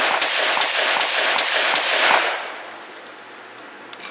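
Rapid close shotgun fire from an AK-style Saiga 12 or VEPR-12 emptying a full magazine, a quick run of loud sharp reports for about two seconds followed by fading ringing and quiet.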